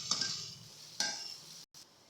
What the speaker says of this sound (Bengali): তেল দিয়ে এভাবে কিছুক্ষণ ভেজে নেব, যতক্ষণ পেঁয়াজ লাল হবে না ততক্ষণ ভেজে নেব।